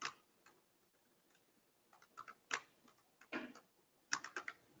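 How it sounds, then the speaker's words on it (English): Typing on a computer keyboard: irregular bursts of close key clicks with short pauses between, steady and fairly quiet in an otherwise still room. "As soon as my fingers start getting cold, my typing gets really bad."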